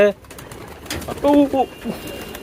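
King pigeons give a short, close burst of soft cooing, two brief phrases against a quiet background with some faint voices.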